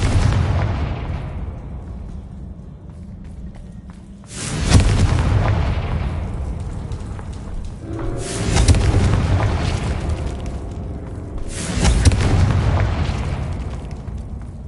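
Three deep booming blasts of the Confringo fire spell in Hogwarts Legacy, each a loud burst that fades into a long rumbling tail over steady background game noise.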